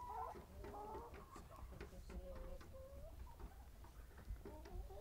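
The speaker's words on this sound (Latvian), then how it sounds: "Vista." A domestic hen clucks repeatedly in short, uneven calls, faint and fairly close, with a low background hum beneath.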